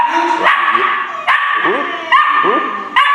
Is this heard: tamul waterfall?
no